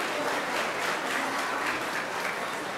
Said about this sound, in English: Let's give Ms. Guthrie and her great superstars a round of applause